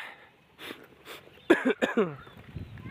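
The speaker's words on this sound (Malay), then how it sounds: "Ini mimin agak batuk sedikit sana ya." A few short coughs sound close by and fairly quiet, with some breathing and faint rustling around them.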